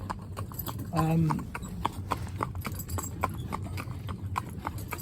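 Steady hoof clip-clops of a Welsh Cob mare walking, evenly spaced and fairly close, with a brief low snort or voice near the start.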